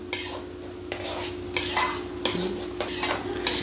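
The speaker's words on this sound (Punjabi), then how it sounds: "ਆ ਦੇਖੋ ਇਹ ਮਿਕਸ ਹੋ ਰਿਹਾ ਹੈ" A spoon scrapes and clinks around a bowl as chopped dry fruit is stirred into a homemade chocolate mixture, with several sharp scraping strokes at an uneven rhythm and close, clear sound.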